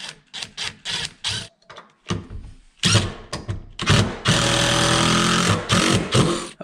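A power driver sinks 2.5-inch screws into a wooden attic ladder frame, with short stuttering whirring bursts followed by a longer sustained run of the motor.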